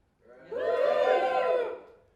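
A live comedy audience cheers and whoops on cue, a swell of many voices rising over about half a second, holding loud and steady, then fading away.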